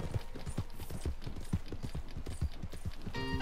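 Horse hooves clip-clopping in Red Dead Redemption 2, a steady, evenly spaced trot of distinct close hoof beats running throughout with no talk.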